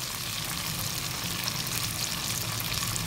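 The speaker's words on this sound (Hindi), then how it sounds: "तो 5 मिनट तक हम इसको फ्राई करेंगे।" Okra (bhindi) fries in a pan with a continuous, even hiss of hot oil, close and unbroken throughout, with no voices.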